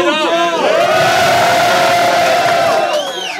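A large crowd at a rap battle cheers loudly, with whoops and shouted calls rising above a continuous roar that fades slightly at the end.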